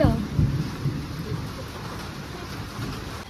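Rain and thunder from a storm: a deep rumble opens loudly and then settles into a steady, fainter wash of rainfall that continues to the end.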